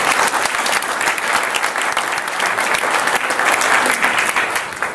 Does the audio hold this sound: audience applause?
yes